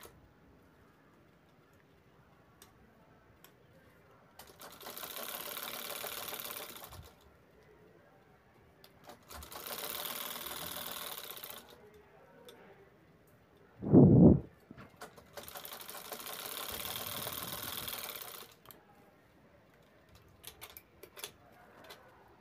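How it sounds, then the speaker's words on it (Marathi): A sewing machine topstitches a folded piping strip on a tote bag in three separate runs of steady whirring stitches. The runs are split by quiet pauses, with one sharp knock between the later runs. "आतल्या साईडने ती पट्टी दुमडेल आणि वरून आपल्याला दाबटीप घ्यायची आहे"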